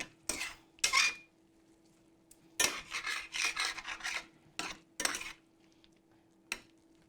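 A spoon stirs pork meatballs in broth inside a cooking pot, making short scraping, rasping strokes in several separate bursts with quiet gaps between them. The sound is close and clear, with no talking.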